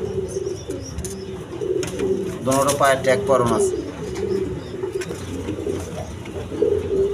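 Big-sized milky-coloured racer pigeons coo repeatedly in a loft, the birdsound running steadily beneath someone talking close by.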